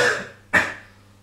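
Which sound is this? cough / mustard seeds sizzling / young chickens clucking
cough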